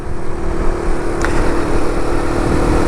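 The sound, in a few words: SYM Symba motorcycle accelerating, Honda Cub C90 replica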